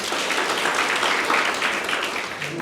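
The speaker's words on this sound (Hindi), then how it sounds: "यहाँ की लीडरशिप के लिए भी एक बार ज़ोरदार तालियाँ हो सकती है" Applause from a large audience at a leadership training event in Shirwal, a steady dense wash of clapping filling the whole stretch at a fairly loud, even level, with no voices standing out.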